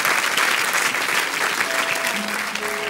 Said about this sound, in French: On peut l'applaudir bien fort, Hélène.